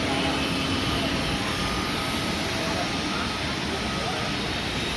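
Aircraft engine roar from an airplane at Chennai Meenambakkam Airport, a steady broadband rumble holding loud and even throughout, with people talking faintly beneath it.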